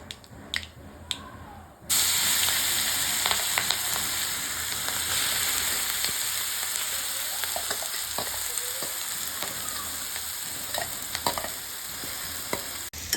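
Ground green chilli paste hits a pan of hot oil with asafoetida while making a rustic chilli thecha. After a few quiet clinks, a sudden loud sizzle erupts and hisses steadily, broken by stirring scrapes and spatula taps.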